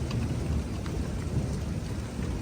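A nighttime thunderstorm in Maryland Heights gives a steady roar of heavy rain mixed with low rumbling thunder, dense and continuous with no voices.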